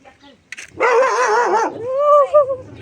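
A fierce dog kept in a cage at a family home barks and howls in one long, loud, drawn-out outburst, followed by softer whining yelps, with a short burst of noise just before it.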